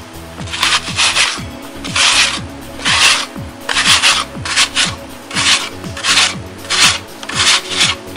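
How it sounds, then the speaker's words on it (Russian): A peeled apple is rubbed against a grater in a brisk, regular rhythm of loud rasping strokes, each scrape close and clear with short pauses between. "Берем очищенное яблоко и натираем его на терке."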